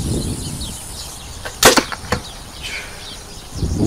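A shot from an archery bow at a target 30 meters away: a sharp release snap is followed by quick whooshing and ticking impacts, short and clear over quiet outdoor background.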